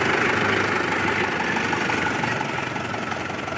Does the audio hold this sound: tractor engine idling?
yes